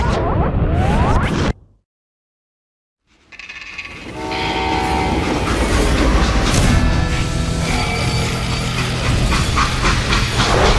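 A freight train in the western video game Call of Juarez: Gunslinger, loud rumbling rail noise that cuts out briefly, then returns as a steady heavy roll with a hissing, horn-like tone on top.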